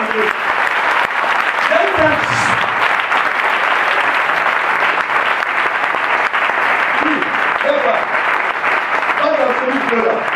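A church congregation applauding to acclaim the Lord at a Pentecost service, sustained loud clapping filling the whole stretch with a few voices faintly beneath it.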